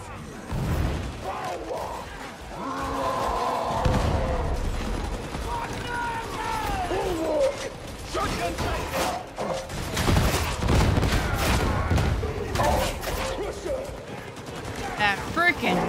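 Gunfire from enemy gunners in the Darktide video game, dense bursts rattling amid a chaotic battle mix with booms and growls, while voices talk over the action throughout.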